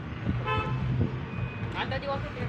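A tempo truck honks a few short toots of its horn amid street traffic and background chatter.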